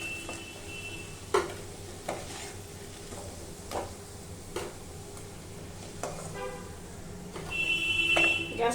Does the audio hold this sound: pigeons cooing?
no